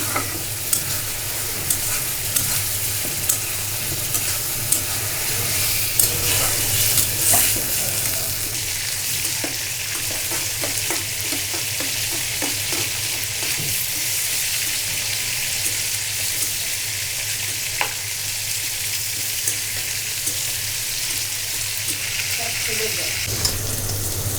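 Onions frying in oil for a chicken roast, a steady close sizzle with stirring scrapes throughout, a little background noise and no talk.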